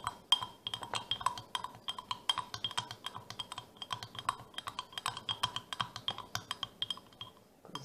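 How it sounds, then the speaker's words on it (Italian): Melted soap with blue colouring being stirred in a glass container, a steady run of quick clinking taps as the utensil knocks the glass, close and fairly quiet, with no voices. "Mescolo."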